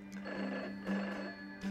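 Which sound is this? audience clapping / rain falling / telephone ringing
telephone ringing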